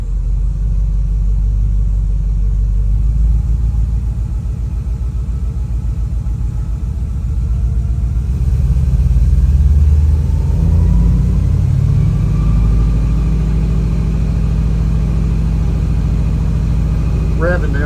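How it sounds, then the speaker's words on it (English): A 1961 International C110 pickup truck engine idles with a steady low rumble, then is revved gently around the middle, its pitch rising and falling as the RPMs climb, close and continuous. "Revving the RPMs a little bit, just to see if I can get a little more heat into it."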